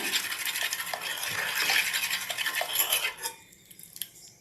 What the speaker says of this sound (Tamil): இந்த பருப்பு நல்லா மசிச்சு விட்டுக்குங்க.